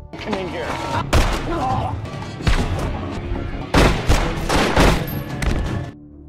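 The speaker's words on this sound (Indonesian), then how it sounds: "aksi tembak-menembak pun terjadi di sana" Gunfire in a film shootout, several heavy booming shots and bursts landing over a dense, loud mix of film sound, with a voice talking over part of it.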